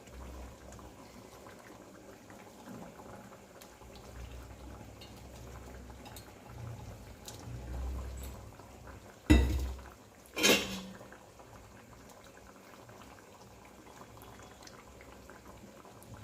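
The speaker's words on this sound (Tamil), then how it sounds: "பாருங்க, குழம்பு நல்லா கொதிச்சு வந்துடுச்சு." A pot of Tamil dried-fish curry (karuvattu kulambu) bubbles and simmers steadily at close range, with a couple of sharp metallic clinks from a utensil partway through.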